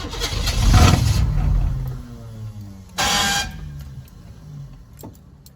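A truck engine cranks loudly for about two seconds, catches and runs briefly with a falling drone, then a second burst of cranking follows before it dies away, heard close and alone.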